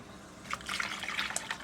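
Water pours and splashes into a can of Eagle Brand condensed milk to rinse out the thick leftovers, a short close trickling fill that swells after a moment of quiet.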